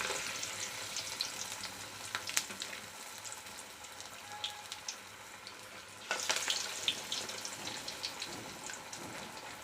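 Masala vada made from banana flower fry in hot oil in a home kitchen, with a steady close sizzle and crackle. Bursts of bubbling rise as more vadas go into the pan, and nobody speaks.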